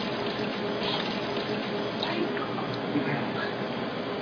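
Water pours and trickles steadily as it is drained off fresh mozzarella curd, a continuous close, moderate wash of running liquid with no talking.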